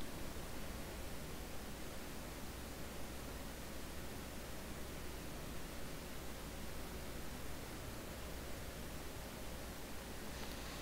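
Steady hiss and whir from a computer running close by, faint and constant, with no other sounds over it.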